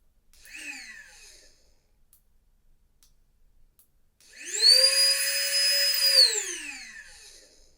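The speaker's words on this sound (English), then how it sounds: "a double click to operate the pump" A portable electric air pump for camping, also a light, whirs on after a couple of clicks, with a steady high whine that falls in pitch as it winds down near the end.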